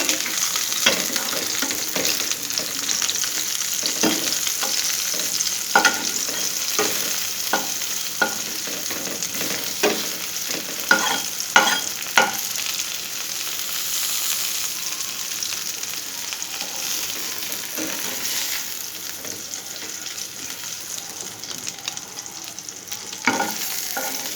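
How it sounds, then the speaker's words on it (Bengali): Ilish fish paturi wrapped in bottle gourd leaves fries in a pan, a continuous close sizzling hiss punctuated by scattered crackles and spatula stirs, with no voices. "আমার পাতুরি হয়ে গেছে ভাজা ভাজা হয়ে গেছে"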